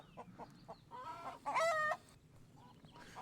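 Chickens cluck in short bursts, and one bird lets out a louder, drawn-out squawking call in the middle before the soft clucks resume.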